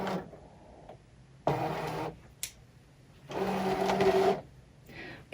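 A card-cutting machine loads a card with two bursts of mechanical whirring and motor hum, separated by quieter stretches and a brief click, close and moderately quiet with no speech.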